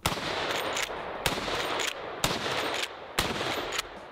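Real firearms modeled on Call of Duty weapons fire loud, close bursts of rapid automatic gunfire, each volley breaking off and restarting about once a second, with no talking.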